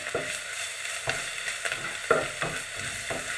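Spices of coriander powder, Kashmiri chilli, turmeric and cumin sautéing in oil for a potato and green peas gravy, a continuous close sizzle broken by regular spatula scrapes and stirring taps, with no voices.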